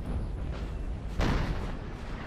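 Artillery fire in a Napoleonic-era battle in Napoleon: Total War, a dense rumbling barrage with a sharper boom about halfway through, layered over continuous battlefield noise.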